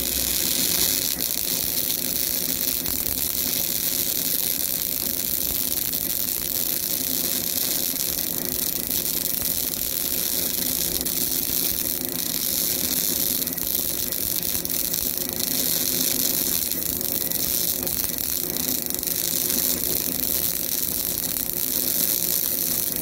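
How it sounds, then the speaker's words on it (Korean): CO2 welding of a vertical weave bead gives a continuous, even crackling hiss that holds steady at close range, without voices. "자, 지금 용접 쭉 한번 해봤고요."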